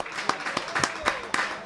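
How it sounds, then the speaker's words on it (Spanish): Spectators applauding at a preseason football match between Membrilla and Tomelloso, with scattered claps rising above a steady crowd murmur. "se merece los aplausos del respetable"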